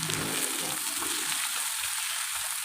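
Ground meat for bopis frying and being stirred in a pan, a loud continuous sizzle with soft scraping thumps from the stirring, heard close and without talk.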